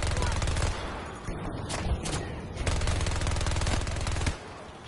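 Automatic fire from a K30 gun in a first-person shooter video game, rapid bursts of shots running loud and continuous through most of the stretch, with a brief lull in the middle and a player's voice talking over it.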